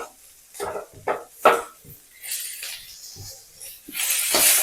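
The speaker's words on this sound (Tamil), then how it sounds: "இப்போ நான் வெங்காயம் போட்டுக்கிறேன்" Chopped onions hit hot oil in a pan for masala poori and crackle into a rising, close sizzle, with a few sharp clatters and stirring knocks early before the frying hiss swells louder toward the end.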